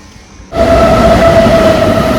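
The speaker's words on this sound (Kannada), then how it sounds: "ನೋಡ್ಬೋದು ಟ್ರೈನು ಇವಾಗ ಮೂವ್ ಆಗ್ತಾ ಇದೆ" Train pulling out of Tumakuru railway station at night, bound for Mysuru, starting abruptly after a quiet moment with a loud, close, continuous rumbling roar and a faint steady whine.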